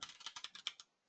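Quick run of key presses typing a command on a computer keyboard, about eight crisp clicks in a steady rhythm over roughly a second, close and fairly quiet, then stillness.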